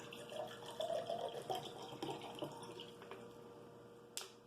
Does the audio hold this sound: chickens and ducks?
no